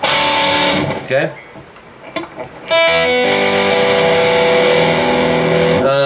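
Sustained distorted electric guitar playing a riff with the palm mutes left out, loud and ringing after a short spoken word and a few brief picked notes.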